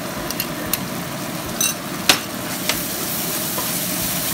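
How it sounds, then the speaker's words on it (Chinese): Shallots and garlic stir-frying in a red-hot wok, a steady dense sizzle close up with a few sharp metallic scrapes and taps of the spatula against the pan. "又燒紅隻鑊啦，咁啊先爆香啲乾葱同埋蒜先"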